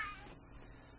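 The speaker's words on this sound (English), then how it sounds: "Sorry for my kitty cat here, he wants some attention." House cat meows once for attention, a short, faint call, fairly close, over a quiet room.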